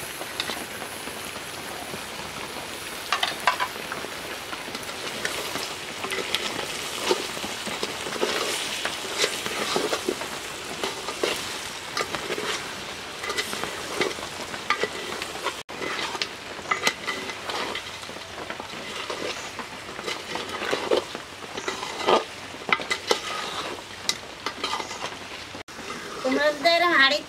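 Mutton sautéing with added tomato in a cooking pot makes a low, rain-like sizzle broken by scraping and stirring noises that come and go, with someone speaking at times.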